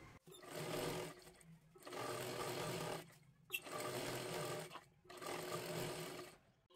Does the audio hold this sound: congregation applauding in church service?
no